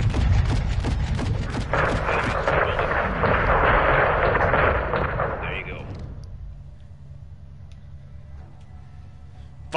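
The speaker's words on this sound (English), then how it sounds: "You like firing mortars, huh?" Mortar fire in Call of Duty Modern Warfare II, a heavy sustained roar of rumbling blasts and crackle for about six seconds that then fades to a quiet low background.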